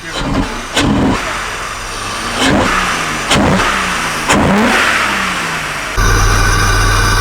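A roofless BMW with a 10-foot intake revving repeatedly, several sharp rises in pitch that fall back between bursts, loud and close, ending in a steady rumble.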